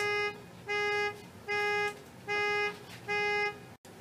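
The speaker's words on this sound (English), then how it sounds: "an alarm started going off a car outside" A car alarm blares outdoors in five repeating electronic bursts, each about half a second long with short gaps between them, steady and fairly loud.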